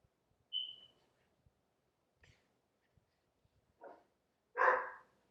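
A labradoodle puppy gives a few short, scattered barks and yips indoors, spaced apart with quiet gaps between, the last bark the loudest and fullest.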